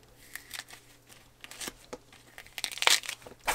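An orange is peeled by hand up close, with soft tearing and crinkling rips in uneven bursts that grow louder and sharper toward the end.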